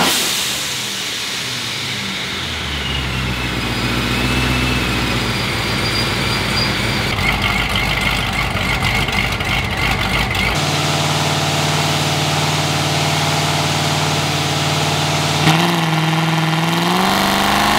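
A boosted, tuned Corvette engine on a chassis dyno runs loud and close, climbing through a sustained rev before dropping back and settling, with a brief sharp change near the end.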